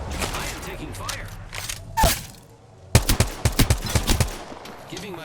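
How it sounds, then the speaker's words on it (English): Gunfire rings out in the Apex Legends battle royale shooter: a single loud shot, a brief lull, then a rapid string of close, sharp reports, with a voice talking partly over the shooting. "I am taking fire"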